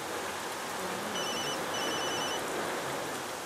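Mobile phone ringing with an incoming call from an unknown number, a short electronic ring tone in two bursts over steady hiss, fairly faint.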